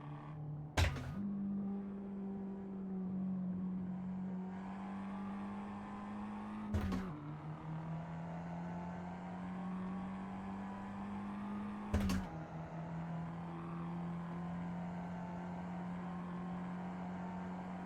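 Race car engine droning steadily in Assetto Corsa at the Nürburgring, cut by three sharp gear-change bangs spaced several seconds apart as it downshifts, with the engine pitch resettling after each one.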